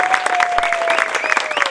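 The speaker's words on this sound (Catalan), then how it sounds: "un fort aplaudiment per la Frida, per l'Odin, per la Nina" Brief crowd applause at a neighbourhood summer festival, dense close clapping with a faint steady tone running beneath.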